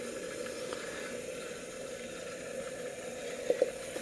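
Water runs through a $100 household espresso machine while pre-soaking coffee grounds, a steady faint pumping hum and gurgle throughout with a couple of small clicks near the end.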